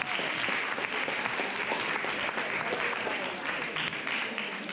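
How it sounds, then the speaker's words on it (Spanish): Steady, full audience applause at an International Women's Day event on 8 March 2020, dense clapping held evenly for several seconds before easing slightly at the end. "Un aplauso, por favor."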